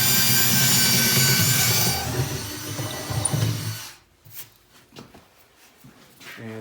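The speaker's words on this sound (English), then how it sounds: "Let's drill a hole through here." A drill bores a hole through a wooden support table for a farmhouse sink, with a loud, steady whine for about four seconds before stopping, followed by quieter knocks and handling sounds.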